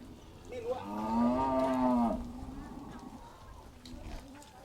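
A single cow lets out a long, loud moo at a cattle and buffalo livestock market, one drawn-out call lasting about a second, with faint crowd murmur around it.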